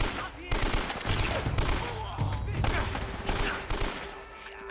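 Rapid gunfire rattles through a shootout in the PS4 video game Uncharted: Drake's Fortune, with dense bursts and clustered shots following one another across the whole stretch and no pauses.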